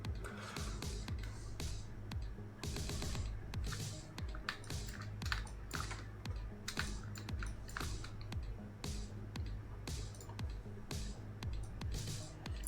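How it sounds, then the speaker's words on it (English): A loud computer keyboard clatters with rapid, irregular bursts of keystrokes, continuous and close, with brief pauses between typing runs. "You have a loud keyboard."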